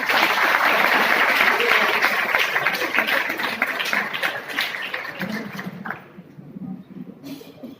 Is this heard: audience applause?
yes